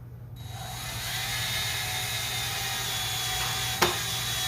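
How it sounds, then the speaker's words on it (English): A power drill drives a pocket hole screw into a wooden desk panel, a sustained close whine and grinding of the screw biting into wood that ends with one sharp click near the end. "Once that pocket hole screw tightens in, you just get off of it."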